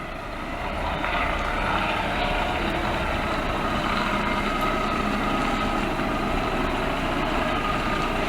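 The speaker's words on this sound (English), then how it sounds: "that is the engine brake slowing you down" Volvo FH13 500 truck slowing on its engine brake, giving a steady low droning rumble that holds level and constant throughout, heard from inside the cab.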